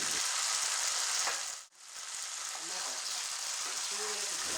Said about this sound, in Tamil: மஷ்ரூம் ஆட் பண்ணிட்டு ஜஸ்ட் ஒரு ஃபியூ செகண்ட்ஸ் நல்லா வதக்கிட்டு